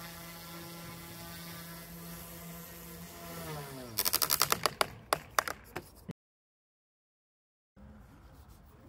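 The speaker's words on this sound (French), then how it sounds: "Je regarde si l'hélicoptère ne dévie pas trop." A Goosky S1 RC toy helicopter whines steadily up close, its rotor pitch shifting before a burst of sharp rattling strikes as it crashes, followed by silence and then faint noise.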